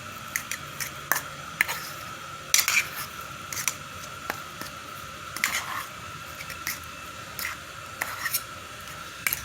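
Thick seasoned dough-like mixture of ladyfish meat being mashed and stirred by hand, giving soft irregular scraping, squishing and clinking strokes at close range with no talk.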